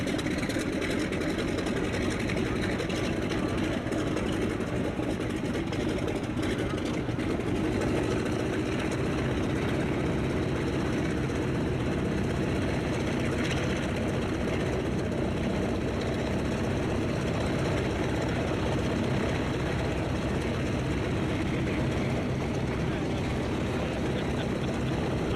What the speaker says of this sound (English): it's the mass takeoff